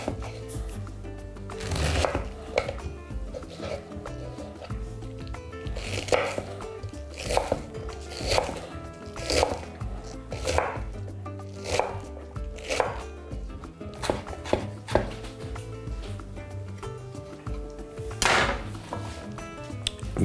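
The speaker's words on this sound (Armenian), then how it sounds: "կտրատում ենք մանր խորանարդիկների։" Cabbage being chopped on a cutting board into small cubes, with steady knife thuds repeating close by at an even working rhythm, without talk.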